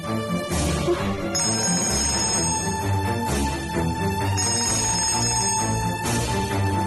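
A telephone rings repeatedly in loud, steady electronic bursts, with brief gaps between rings and no one speaking.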